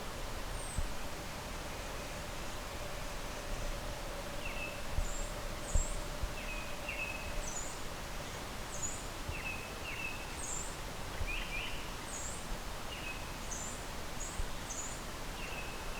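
Birds call in short high chirps and trills, scattered throughout, over a steady rushing hiss of a creek flowing nearby.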